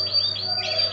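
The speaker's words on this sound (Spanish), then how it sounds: "Mira, estos qué pajaritos de calidad." Small aviary birds chirp in quick, high, thin tweets against a steady low hum, close and continuous with no talking.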